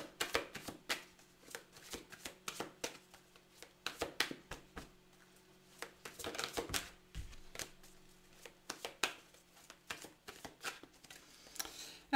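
Tarot cards are shuffled and cut by hand in quick, crisp riffling bursts of papery flutter and soft taps, close and fairly quiet, with pauses between runs.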